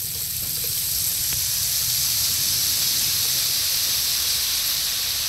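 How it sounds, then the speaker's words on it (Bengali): Boondi batter dropped into hot oil fries with a loud, continuous hissing sizzle that holds steady throughout, heard close up with no talking. "এই যে বুন্দি বানানোর জন্য তেলে ভাইজা নিব"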